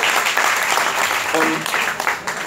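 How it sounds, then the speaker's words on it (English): An audience at a live guitar clinic breaks into loud, close applause. The clapping swells and carries on under voices and some cheering. "Let's have a round of applause for those guys."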